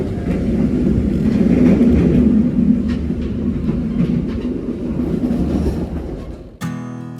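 Inside the Madiun Jaya passenger train as it runs straight through Bumi Ayu station without stopping, a loud, continuous rumble and rattle of the moving carriage, with faint rail clatter, cutting off abruptly near the end.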